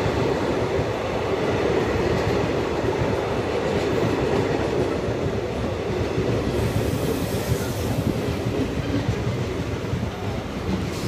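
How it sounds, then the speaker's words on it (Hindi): A DMU passenger train running between Ludhiana and Ferozepur pulls into a small single-platform station, with a loud, continuous rumble and rhythmic wheel clatter on the rails, close by, with no talk. "ये आ चुकी है अपनी लुधियाना से फिरोजपुर के बीच में चलने वाली DMU"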